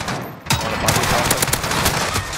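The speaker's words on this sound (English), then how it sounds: "Oh my god, stop shooting, bro" Sustained automatic gunfire in Call of Duty: Modern Warfare, loud rapid overlapping bursts of shots during a competitive match, with a player's voice talking over the shooting.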